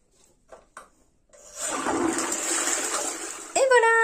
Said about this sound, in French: Un petit coup de chasse d'eau.